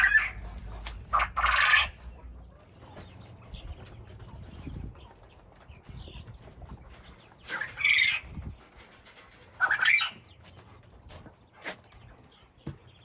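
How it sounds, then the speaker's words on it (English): Penned quail let out sharp, loud squawking calls in short bursts, a pair early on and two more later, with quieter rustling and movement between them outdoors in winter. "Those are the quail making all that doggone noise."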